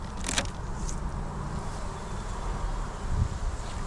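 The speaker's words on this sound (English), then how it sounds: "A lot of activity, that's good. A lot of bees" Bees buzz around a garden beehive, a steady low hum of many insects close by with a few louder passes near the start and end, no talk over it.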